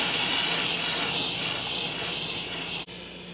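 Black+Decker BDH1800SM handheld steam cleaner jetting a straight stream of steam at stove grime on kitchen tile, a steady close broadband hiss that holds for about three seconds, then cuts out briefly before resuming.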